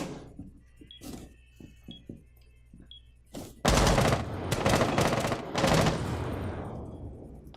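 Gunfire during a Rainbow Six Siege tournament match: faint scattered clicks and taps, then several loud, close bursts of automatic fire in quick succession, the last trailing off.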